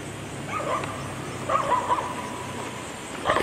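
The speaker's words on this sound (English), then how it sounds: "And I hear another dog." Dogs bark out in the countryside near a rural property with horses, a few short yips and barks in separate bursts at moderate distance, with quiet outdoor ambience between them.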